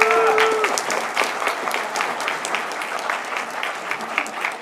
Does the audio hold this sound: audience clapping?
yes